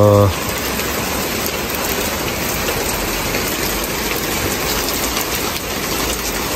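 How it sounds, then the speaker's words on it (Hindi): Heavy rain in the UK pours down as a loud, dense, unbroken roar, close and steady throughout, with a brief tonal sound at the very start. "सर बारिश तो हो रही है"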